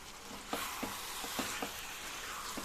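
Kadai vegetable gravy with kadai masala and green coriander is stirred in a pan, a steady sizzle under periodic scraping strokes of the spoon against the metal.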